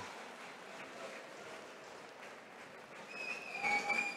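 Crowd applause at an Adler FC 2 MMA event after a bout is ruled a draw, a faint, steady wash of clapping from a distance that swells slightly at the end with some tonal ringing.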